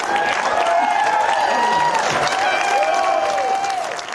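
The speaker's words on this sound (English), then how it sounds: "Big cheers from the crowd there." Crowd at a political event cheering and applauding, a loud sustained roar with whoops and tonal shouts that holds and then eases slightly at the end.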